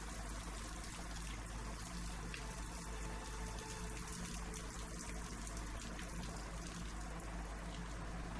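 Water runs in the Hitman 3 game as a faint, steady rushing trickle that keeps going with no break and no voices.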